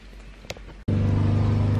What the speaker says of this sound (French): le grand il est en train de passer la tondeuse.